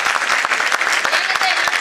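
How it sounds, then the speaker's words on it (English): Dense, steady clapping from a full audience at a Y20 brainstorming session panel, greeting panelists as they receive mementos, loud and close for the whole stretch with no talk. "Guys, huge round of applause, please."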